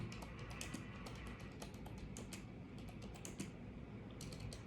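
Quick, irregular clicks of fingers typing on a computer keyboard come in short bursts with brief pauses, soft and close against a low room hum, with no talking.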